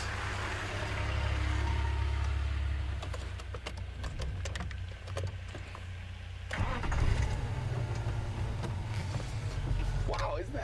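A safari vehicle's engine rumbles low and steady through a bush drive, rising after a shift midway, with faint rattles and clicks on top and someone talking over it.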